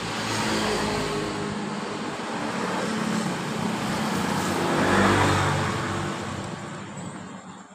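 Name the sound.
Honda Genio scooter engine with rough rattling sound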